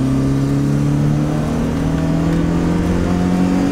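A BMW 318is with an all-original engine drones steadily and loudly from close by, a constant deep humming tone that holds throughout without a clear rise or drop in pitch.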